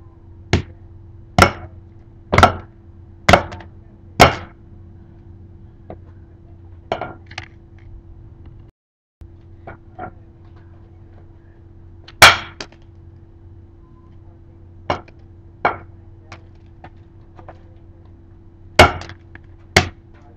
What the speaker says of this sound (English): we're gonna still continue smashing this one